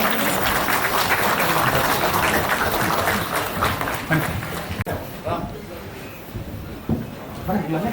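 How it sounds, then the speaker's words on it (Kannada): Dense applause from an audience at a film song launch event, loud at first and then thinning into scattered claps with talking mixed in. "ಚಪ್ಪಾಳೆ ಒಂದಿಗೆ ಶುರು ಮಾಡೋಣ"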